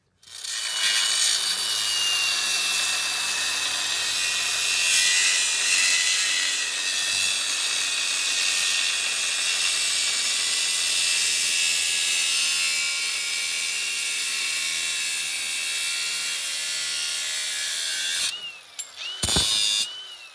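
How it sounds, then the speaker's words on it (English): An angle grinder works steadily on metal edges, rounding off and cleaning cut wheel-well openings on a classic car body, a loud continuous high whine that cuts out abruptly near the end. "take the grinder, clean this off, round these edges off"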